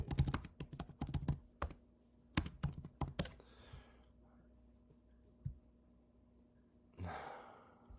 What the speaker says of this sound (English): let me type in yours